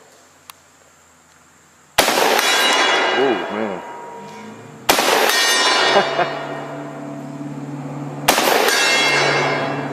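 Three loud, close 12 gauge shotgun blasts from a Benelli M2 fired at a steel gong outdoors. Each sharp report comes with a long, ringing metallic clang, spaced a few seconds apart, and someone speaks briefly between the shots.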